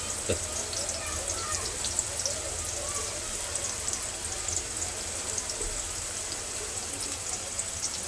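Onion sizzles and crackles steadily in a hot pan while being sautéed for spicy misal, a dense, even frying hiss that fills the whole stretch at close range.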